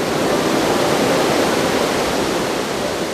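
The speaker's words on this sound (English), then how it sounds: "Victoria Falls is the largest waterfall on the planet" Victoria Falls, the vast African waterfall, gives off a constant dense roar of crashing water, loud and unbroken throughout with no voices.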